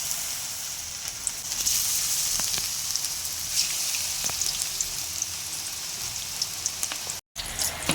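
Vegetarian mock fish made from jackfruit fries in hot oil in a wok, giving a steady bright sizzle with scattered pops and crackles throughout, close and moderately loud, with a brief cut near the end and no speech.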